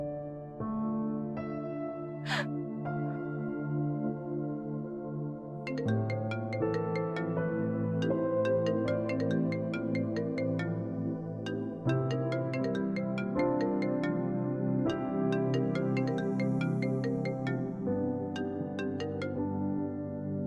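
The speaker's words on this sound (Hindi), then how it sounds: "निशा, निशा तुम मेरा फोन क्यों नहीं उठा रही?" A mobile phone rings unanswered, its melodic ringtone repeating phrase after phrase for about twenty seconds, clear and fairly loud with no talk over it.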